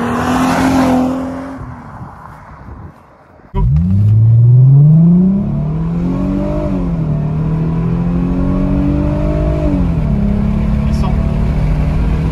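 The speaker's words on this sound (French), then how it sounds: "Ça accélère pas mal quand même" A Mercedes C-Class 320 V6 coupé accelerating hard from inside the cabin, the engine rising steeply in pitch through successive gears after a brief lull, loud and continuous with a steady drone between shifts.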